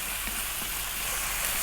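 Green beans hit a hot pot of chicken stew with a steady, close sizzle, a dense even hiss of frying that holds unbroken throughout with no voices.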